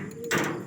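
A pigeon loft door slides open with a short scraping, rattling rush, close and fairly loud, after a brief quiet moment.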